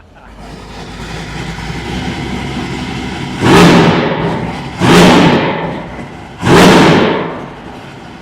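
A custom car engine, found in a warehouse, turns over and fires three times in succession. Each start is a loud burst over a steady background rumble and fades before the next.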